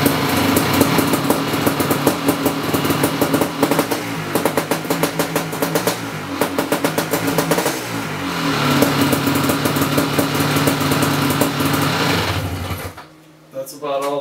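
A Kawasaki KX500 two-stroke dirt bike runs close and loud in a shop after a kick start, its engine buzzing in a rapid, rattly idle with revs that rise and fall, then cutting off abruptly near the end.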